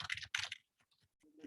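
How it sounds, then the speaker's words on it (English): Fingers type on a computer keyboard in a short, close burst of quick key clicks and taps, with brief pauses between strokes. "So let's say you're typing."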